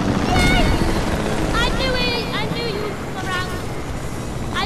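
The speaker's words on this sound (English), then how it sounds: "Helicopter." A helicopter in the video game Fortnite gives off a steady rotor whir and engine drone, loud and continuous, while several excited people talk and shout over it.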